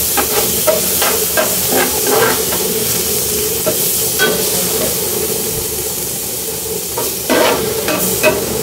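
Shrimp stir-fried in a hot pan for a vegetable-stem dish give a loud, continuous sizzle, broken by repeated scraping stirs that bunch together at the start and again near the end.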